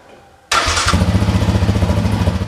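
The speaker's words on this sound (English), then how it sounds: "just start it up and warm up your engine" A Yamaha Raptor 700 ATV engine fires up abruptly after a quiet moment, then settles into a loud, close, steady idle with a rapid throbbing pulse as it warms up.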